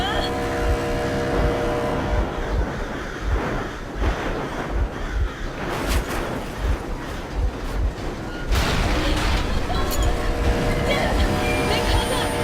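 Vehicle engine running during a chase in the video game Metro Exodus, a loud continuous rumble mixed with rushing wind and road noise, with brief bursts and shifts partway through, and voices talking over it.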